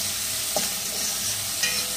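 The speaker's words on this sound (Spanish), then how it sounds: "Hay que freír un poco así." Onion and garlic sizzle loudly in a pan for a chicken and beer dish, a dense steady frying hiss broken by a couple of spatula stirs.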